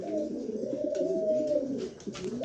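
A pair of rare cream bar pigeons coos in one continuous low, throaty rolling call close by, clear and without talk.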